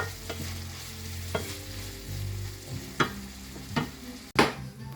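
Bacon frying in a home kitchen pan, a low sizzle punctuated by several sharp scrapes and knocks of a utensil, ending in a louder clatter, close by and without speech.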